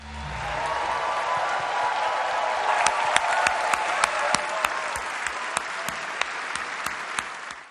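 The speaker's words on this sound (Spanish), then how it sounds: "los estudiantes lo recibieron con música y una gran ovación" Students at the French-speaking University of Louvain give Pope Francis a big welcoming ovation: dense, loud, sustained clapping from a large crowd that holds steady throughout, with a faint tonal hum running beneath it.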